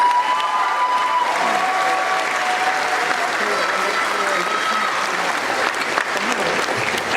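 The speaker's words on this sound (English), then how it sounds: "you guys deserve a round of applause" Sustained, loud applause from a large crowd at a high school graduation ceremony, a steady wash of clapping throughout with faint cheering mixed in.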